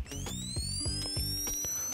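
Vintage camera flash charging effect: a rising high whine climbs steadily over about two seconds, layered with rapid repeated mechanical clicks and low thuds in a steady rhythm, loud and close with no talk.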